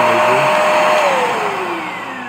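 A Hoover Spotless portable carpet and upholstery spot cleaner (FH11300PC) runs with a loud, whirring motor hum whose pitch sinks steadily as it winds down.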